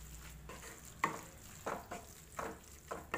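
Masala of onions and curry leaves stirred in a pan, soft repeated scrapes of a spoon at an irregular rhythm over a faint, quiet sizzle.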